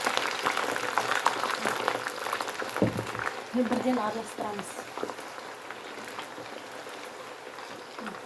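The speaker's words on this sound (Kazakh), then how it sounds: "Әбден қызғаннан кейін ақырындап картошкамыз саламыз." Potato fries crackle and sizzle in hot oil, a dense bubbling spatter that is loudest at first and then settles, with someone speaking briefly over the frying.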